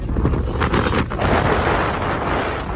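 Strong wind at Halong Bay, Vietnam, buffets the microphone in a loud, continuous roar with gusty surges and no talking.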